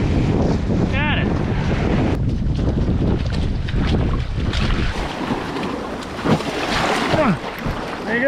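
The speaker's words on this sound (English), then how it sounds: "it's just so windy" Strong wind blasts across a saltwater fishing shore, buffeting the microphone with a continuous low roar, and waves wash in beneath it. A person speaks briefly partway through.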